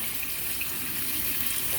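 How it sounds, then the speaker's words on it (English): Cold tap water runs steadily over cooked tortellini in a kitchen sink, a continuous close gushing splash with no break. "I'm gonna hit this with a little bit of cold water"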